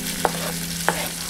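Chopsticks stir cabbage soup ingredients in a pot, giving two short, sharp clinks about half a second apart over a steady low kitchen hum.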